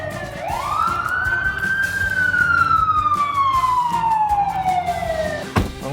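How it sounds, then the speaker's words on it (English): A single police siren wails, sweeping up in pitch and then slowly falling over several seconds, loud and close above the rumble of traffic, and ends with a sharp thump. "There was a lot of sirens, and then parking enforcement came out of nowhere."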